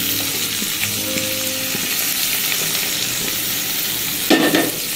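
Cut chillies, tomatoes and capsicum frying in a pan over a gas flame, a loud continuous sizzle with a few scrapes and a sharp burst near the end, no talk.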